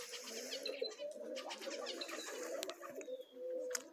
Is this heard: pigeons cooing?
yes